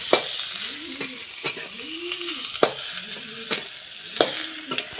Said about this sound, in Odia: ଦେଖନ୍ତୁ ସାଙ୍ଗମାନେ, ଆମର ଏବେ ଅଣ୍ଡା ତରକାରୀ ହେଉଛି।